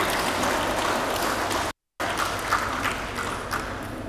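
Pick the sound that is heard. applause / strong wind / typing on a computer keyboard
applause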